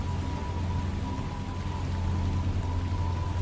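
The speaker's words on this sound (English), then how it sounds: "It took an hour for the storm to let up." Storm rain falling steadily and heavily, a dense, continuous hiss of drops over a low rumble, with no voices.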